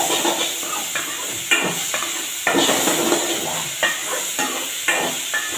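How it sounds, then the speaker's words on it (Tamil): Onion, tomato and curry leaves sauté in a pan for a dried fish fry, with a steady sizzle broken by rhythmic stirring scrapes and knocks from a spoon against the pan. "வெங்காயத்தை நல்லா வதக்கினதுக்கப்புறம் தக்காளி கருவேப்பிலையும் போடணும். நல்லா ஒரு வதக்கு வரணும்."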